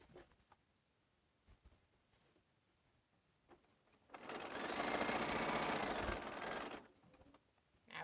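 A sewing machine stitches quilt half units in a single loud burst of rapid whirring lasting a few seconds, framed by quieter handling noises before and after.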